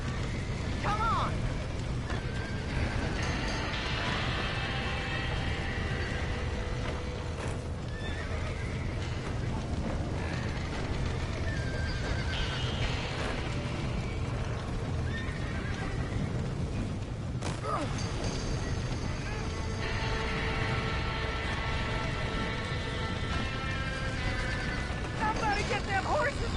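Horses whinny and neigh repeatedly with clip-clopping hooves in a chaotic Red Dead Redemption scene, set against a dense, loud background of rumbling and crackling, with occasional shouted voices mixed in.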